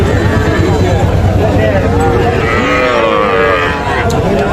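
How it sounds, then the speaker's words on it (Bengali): A young bull calf moos loudly and close by at Ambari cattle haat in Dinajpur, its drawn-out calls rising and falling over a dense backdrop of market crowd noise and nearby talk. "এটাও ষাঁড় বাচ্চা"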